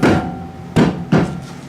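Three solid mallet blows on a car brake part to knock it loose, each a sharp thud with a short ringing decay, the first followed by a pause and the last two closer together, near and loud.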